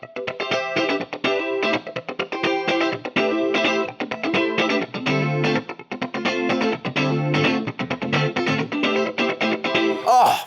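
Guitar run through a lush chorus effect from a Neunaber Immerse Reverberator pedal, shimmering and wavering as chords and notes are played continuously, with no talking.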